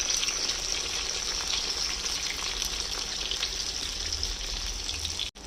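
Salted eggplant slices fry in a pan with a steady, dense sizzle that stays close and even throughout, then cuts off abruptly near the end.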